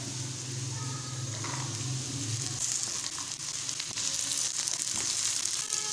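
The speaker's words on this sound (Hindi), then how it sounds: "गाजरें हमारी थोड़ी सी फ्राई हो गई हैं।" Carrots frying in a pan for daliya, a steady close sizzle running throughout with faint stirring scrapes and no talk.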